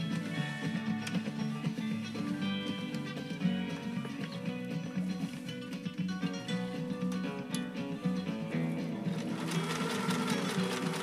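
A 1974 Kenmore 1050 sewing machine straight stitching tough protected full grain leather, a loud continuous rapid mechanical chatter with a steady clattering rhythm, alone.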